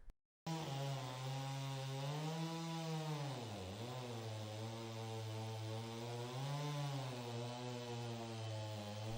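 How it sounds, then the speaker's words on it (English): A chainsaw mill, driven by a saw of at least 50 cc, cuts through logs with a loud, steady high-pitched whine that dips briefly in pitch under load, then recovers and holds for several seconds. "The system works with chainsaws of at least 3 horsepower and 50 cc for optimal results."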